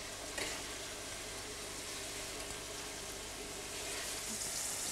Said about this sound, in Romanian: Așa se prăjește carnea toată,